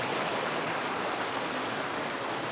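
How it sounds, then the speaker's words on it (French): Water rushing and splashing in a stream against a large rock, a steady, close, broadband wash of spray with no break. "Ça éclabousse et il y a des projections d'eau"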